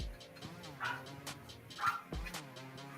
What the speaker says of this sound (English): Oh, small dog don't start.